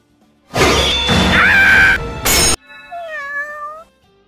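A cat in an anime lets out a loud, drawn-out meow up close, a sharp thump follows, then a softer, wavering meow trails off.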